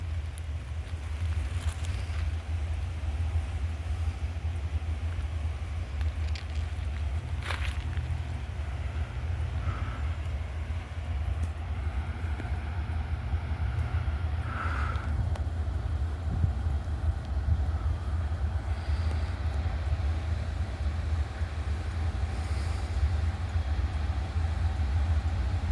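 A train comes in to stop at Abbeville on a red signal, a low, steady rumble that carries throughout at middle distance with faint higher squeals and clanks now and then.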